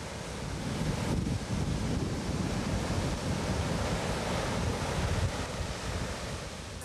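Waves wash in steadily on the East Sea coast at Hupo-ri, a fishing village in Uljin, North Gyeongsang, as a broad continuous roar of surf mixed with wind buffeting the microphone.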